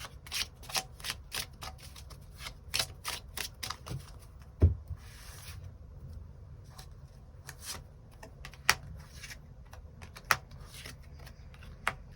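Tarot cards being shuffled and drawn, a run of quiet, irregular papery flicks and taps at close range in an otherwise calm room, with no talking.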